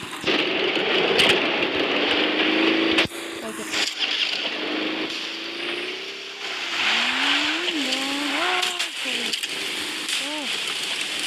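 A car drives in the mobile game Free Fire, its engine droning and rising in pitch as it accelerates and shifts, with players' voices talking over it.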